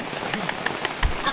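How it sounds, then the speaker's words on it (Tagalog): Heavy rain pours down steadily as a dense, even hiss, with a few brief louder drops and a faint voice underneath. "Okay, kusugay ulan."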